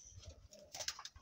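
A racing pigeon coos softly at close range, a few low, murmuring calls rising and falling over a quiet background.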